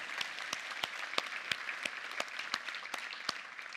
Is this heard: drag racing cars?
no